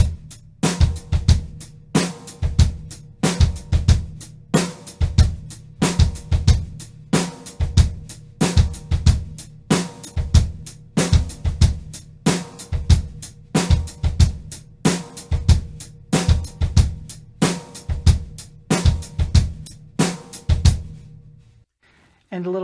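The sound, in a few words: drum set playing sixteenth-note rhythm with bass drum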